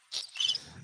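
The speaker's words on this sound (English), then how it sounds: "I think I got a cricket sound." Crickets chirp in a couple of brief, faint high-pitched trills, as if a cricket sound effect is playing during a live talk broadcast.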